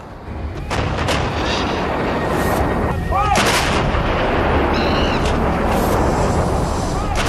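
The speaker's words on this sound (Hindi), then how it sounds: "इन बोफोर्स तोपों की गर्जना पाकिस्तान कभी नहीं भूल सकता।" Bofors artillery guns fire repeatedly during the Kargil War, booming blasts ringing out over a constant rumble, with brief whistling sounds between shots.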